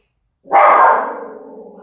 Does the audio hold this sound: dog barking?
yes